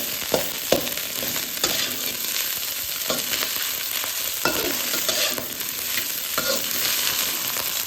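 Fried rice with sliced green beans gets stirred in a sizzling pan, with steady frying hiss and repeated scraping strokes of the spatula at an uneven rhythm, close and fairly loud, with no talking.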